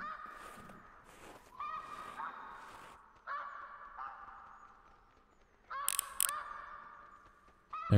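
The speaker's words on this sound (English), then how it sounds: "These geese, man." Geese honk repeatedly in theHunter Classic, a hunting video game: a series of clear, nasal calls that come in short bursts, with a louder, closer cluster near the end over a faint background.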